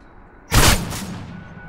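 A single loud, sharp gunshot burst with a short rumbling decay, set in the Hardhat map of the video game Call of Duty, heard alone over quiet background noise.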